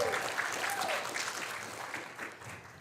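An audience at a business talk claps for a short stretch, moderate and fairly distant, fading slightly toward the end with a faint voice underneath.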